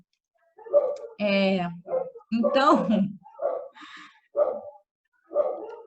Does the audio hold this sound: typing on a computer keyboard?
no